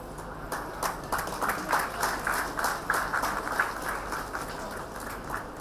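Audience applause for the chief guest being honoured at an award ceremony in Bihar, a steady crowd clapping that swells and dips through the moment with no voices on top.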